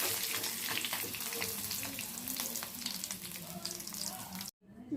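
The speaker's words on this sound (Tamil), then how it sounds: "மீன் 2 பக்கம் எண்ணெயில் செவந்துருச்சுங்க" Jalebi fish frying in oil makes a steady, dense hiss and crackle at moderate volume for most of the stretch, then cuts off abruptly before a brief return.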